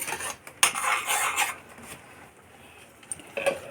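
Masala with chili powder being stirred in a pan, a metal spoon scraping and clinking against the pan in close, irregular strokes that fade to quieter scraping.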